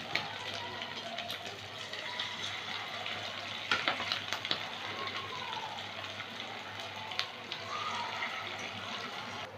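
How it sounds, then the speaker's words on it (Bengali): Chicken pieces with bone frying in hot white oil in a wok over low to medium heat, a steady soft sizzle running throughout with a few sharper crackles near the middle. "কড়াইতে সাদা তেল গরম করে নিয়েছি, আঁচটা লো টু মিডিয়ামে রাখবো, রেখে চিকেনের পিসগুলো ভেজে নেব।"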